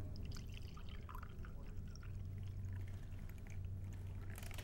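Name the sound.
pouring coffee into a dark cup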